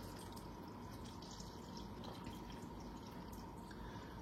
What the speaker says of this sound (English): All of our apple juice goes in.